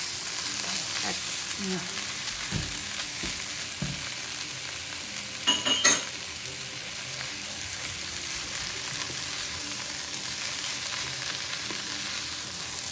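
Curry with garlic and ginger frying in a pan, a steady soft sizzle with occasional stirring scrapes and a brief louder clatter midway, close and continuous.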